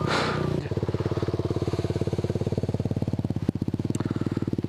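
Motorcycle engine putting at low speed during a New Jersey motorcycle skills test, a rapid even chug with a brief rev surge, close and loud, no talk.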